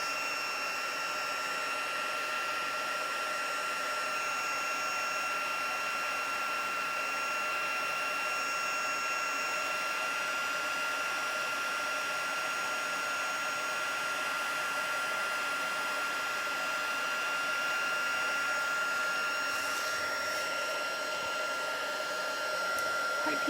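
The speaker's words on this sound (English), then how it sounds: "now I'm going to be using my heat gun" A heat gun blows hot air over an embossed watercolour book page, a continuous loud whooshing hum with a steady high whine held unchanged for over twenty seconds, close by and without talking.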